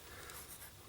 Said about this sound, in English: So let's just write down our time.